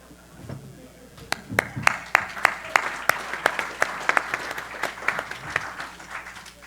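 A small audience claps after a talk on payment systems, a scattered run of distinct claps starting sparse then thickening into steady applause, fairly close and moderate in loudness.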